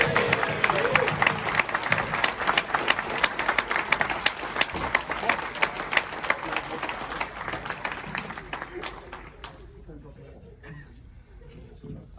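At a Blood Bowl tournament awards event, an audience claps loudly and continuously with some chuckling and voices mixed in, and the applause fades out near the end.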